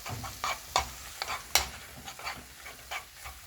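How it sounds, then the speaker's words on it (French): A leek and shrimp mixture being stirred after curry powder is added, with soft scraping strokes and gentle sizzling coming in a loose rhythm, close and fairly quiet, with no talking. "Je vais rajouter un peu de curry dedans. On va continuer à mélanger."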